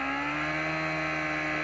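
Steady, loud engine drone with sustained tonal hum, several racing motorcycles on the grid holding revs together before an AFM race start, no talking.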